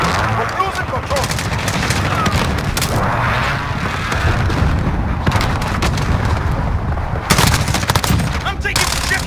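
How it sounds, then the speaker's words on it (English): Precision airstrike in Call of Duty Modern Warfare team deathmatch, rapid loud bursts of gunfire and booming explosions pounding continuously, with a burst near the end, while voices call out over the battle. "Precision airstrike. Inbound."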